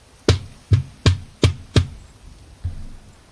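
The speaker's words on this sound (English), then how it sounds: "constant bonking of my mouse lifting up and down" Six hollow thuds of a computer mouse being lifted and bonking down on a desk while gaming, five in quick succession, then a pause before one softer knock.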